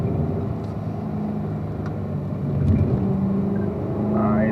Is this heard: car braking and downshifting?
yes